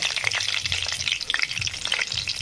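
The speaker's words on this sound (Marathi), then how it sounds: "आपण टाकून घेऊ जिरे, नंतर टाकून घेऊ मोहरी" Cumin and mustard seeds fry in hot oil at the start of a cabbage sabzi, giving a steady, close, crackling sizzle with rapid popping throughout and no voices.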